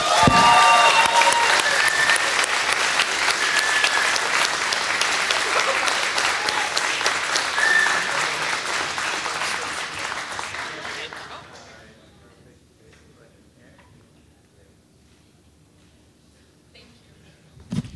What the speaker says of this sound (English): Big round of applause, all our winners.